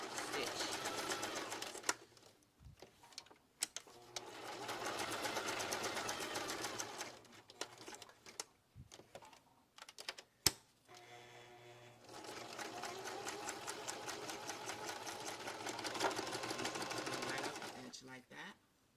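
A sewing machine stitches along the edge of a gift bag in steady bursts, with pauses between runs and a few clicks and thumps as the fabric is turned.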